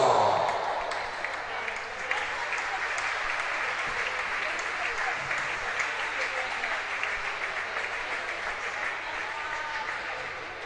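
Steady applause rings out at a thirtieth-anniversary Copa Galicia women's football ceremony as the team and coaching staff are presented, a continuous, moderately distant clapping that lasts throughout at even strength.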